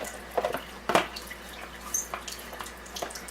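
Water runs from a Kangen water machine during cleaning, a faint trickle with soft drips and splashes, close and quiet.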